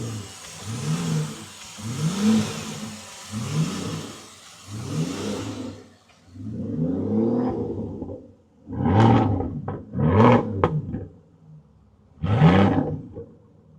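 A 2015 Aston Martin Vanquish engine revs repeatedly up close, a series of roaring blips rising and falling, the later ones sharper and louder with brief pauses between.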